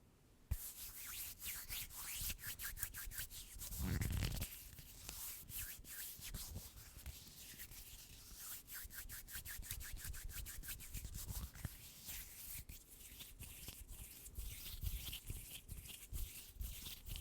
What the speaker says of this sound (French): on va se nettoyer un petit peu les mains